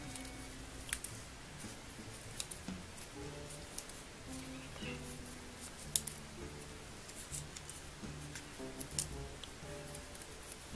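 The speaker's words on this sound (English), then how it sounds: "So then you're going to snip it up to the middle, down one of them, and then fold it back and forth." Scissors snip paper for an accordion rosette, with soft scattered cuts and crinkles, quiet and close, with a few sharper snips spread across an otherwise hushed background.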